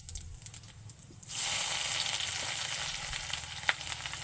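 Ginger garlic paste with whole cumin and bay leaf dropped into hot oil, a sudden loud sizzle that starts after a quiet moment and keeps hissing steadily, close up, with no talk.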